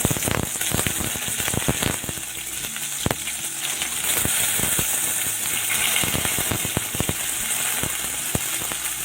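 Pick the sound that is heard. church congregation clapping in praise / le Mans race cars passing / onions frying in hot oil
onions frying in hot oil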